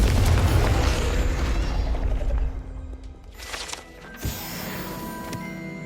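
A Confringo fire spell from Hogwarts Legacy detonates as a loud, booming blast that rumbles and then fades, followed by a second sharper burst and crackling game effects.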